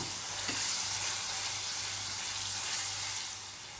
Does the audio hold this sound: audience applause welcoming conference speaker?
no